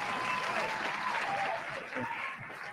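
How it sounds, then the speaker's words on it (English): An audience at a wrestling-style show applauding and cheering, with a dense wash of clapping that fades slightly toward the end and faint voices within the crowd. "They're cheering for the mustache."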